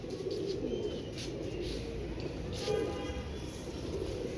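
Pigeons coo softly in a loft, a low murmuring burble running continuously beneath a faint background hum.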